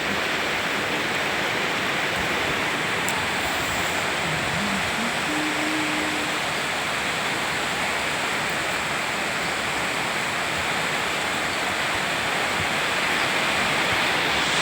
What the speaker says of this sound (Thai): ตกที่บ้านเราเองเลยเนี่ยตก